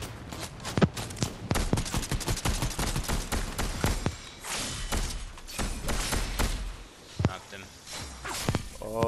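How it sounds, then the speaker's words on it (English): Rapid blaster fire from a DC-15 in a Star Wars shooter video game, sharp shots crackling in quick, irregular bursts close by, mixed with footsteps and brief pauses, with voices talking over the action. "Is he shooting with a DC-15 blast?"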